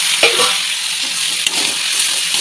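Onions sautéing in a pan, heard as a close, steady hiss and sizzle with a couple of faint utensil scrapes, no voices.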